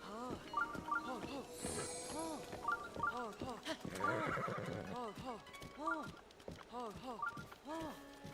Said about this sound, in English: Man, this horse does not like me.